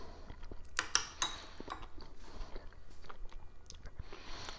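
Someone eating a spoonful of sous vide chuck roast chili, with soft chewing and wet mouth sounds plus a couple of sharp spoon clinks against a bowl, close and fairly quiet, no talking.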